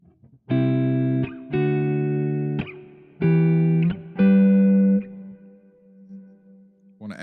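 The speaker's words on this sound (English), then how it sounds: "Now let's go to a plate reverb." Electric guitar with plate reverb from a Strymon BigSky pedal: four strong sustained chords rise and cut off one after another, then a single low note lingers quietly as the reverb tail fades, with nothing else heard.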